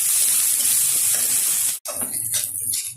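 Ginger paste and spices fry in a pan with a steady, close hiss and sizzle, broken by a brief silent gap before the frying noise resumes with some stirring scrapes.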